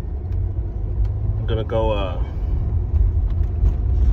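A 1996 Impala SS with no exhaust drives along, its low engine rumble steady throughout while someone speaks briefly over it.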